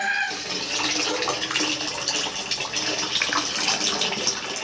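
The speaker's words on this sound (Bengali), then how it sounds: "সো ওদিকে জল ভরা চলছে" Water runs steadily from a tap into a container, a continuous broadband splashing rush that holds at an even level from start to end with no talk.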